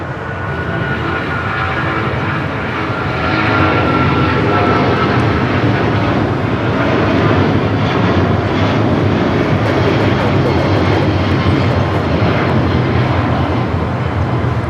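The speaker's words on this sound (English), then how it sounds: "That is American Airlines 274 taking off to JFK on the 777-200ER." An American Airlines Boeing 777-200ER taking off from LAX, a powerful rumbling jet roar that swells after a few seconds and holds loud and steady, with crackling low-end thrust and faint voices underneath.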